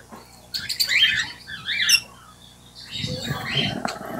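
Newly unboxed Falk birds, still flustered, give bursts of shrill squawks close by, followed by a low rustle of fluttering, while a person talks quietly.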